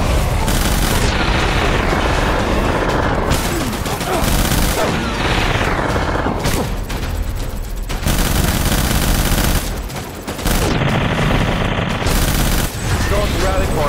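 Sustained gunfire from a Death Stranding battle, with fusillades and machine-gun bursts mixed with booms and heavy combat noise filling the whole stretch, loud and dense, with shouted voices at times beneath it.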